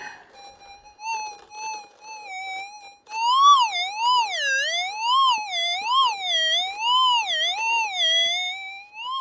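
A metal detector's warbling electronic tone sounds while digging through heavy gravel down toward bedrock on a gold prospecting site. The tone is close and steady at first, then rises in loudness and pitch into a repeated wavering sweep.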